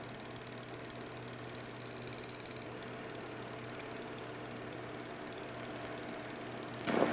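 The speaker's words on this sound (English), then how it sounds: "A tight shot of the engine." A Vietnam War helicopter engine runs in a steady, continuous drone with a low mechanical hum, holding an even level throughout before a brief louder burst at the very end.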